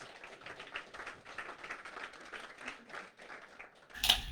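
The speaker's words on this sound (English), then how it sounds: "All right, round of applause" Faint, steady applause from an audience after a startup presentation at a 1 Million Cups pitch event, running as a soft crackling wash throughout with a brief louder burst at the very end.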